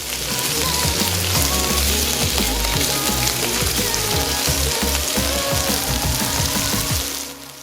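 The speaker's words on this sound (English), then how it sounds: "Add the shrimp on the pan and spread it evenly so it will sear nicely." Shrimp searing in avocado oil in a hot skillet, giving a loud, dense, continuous sizzle up close that cuts off near the end, with no speech.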